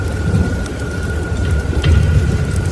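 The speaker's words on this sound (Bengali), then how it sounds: "বৃষ্টির বেগ বেড়ে গেল।" Heavy rain falls hard and without a break during a stormy night in a Bengal village, a loud dense roar with some low rumbling beneath it and no one speaking.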